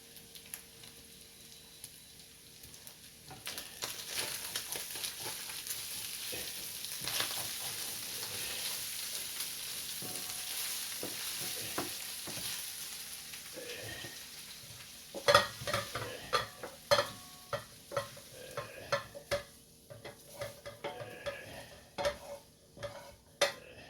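Beef and onions frying in a pan while being stirred: steady sizzle with scraping and clinking utensil sounds, growing more sharp and intermittent clatter in the latter part, no talk.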